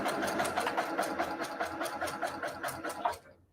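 A sewing machine runs steadily close by, stitching quilt fabric for a nine-patch block with a fast, even mechanical chatter, then stops just before the end.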